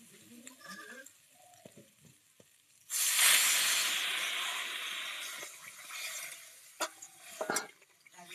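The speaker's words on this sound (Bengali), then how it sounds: "এবার আমি এর মধ্যে দিয়ে দেবো জল।" Water poured onto sizzling fried vegetables in a pan while cooking pea ghugni: a sudden loud hiss erupts after quiet stirring and clinks, holds for a few seconds, then settles into a softer bubbling sizzle with occasional utensil taps.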